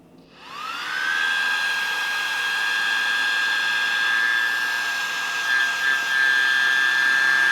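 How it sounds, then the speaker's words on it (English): Twin cooling fans on an MS-18 flashlight with a plastic housing spin up within about a second into a steady, loud, high-pitched whine with a clear tonal hum, holding constant with no talking. "MS-18 has 2 fans, one on either side"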